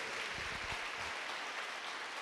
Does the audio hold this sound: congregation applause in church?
yes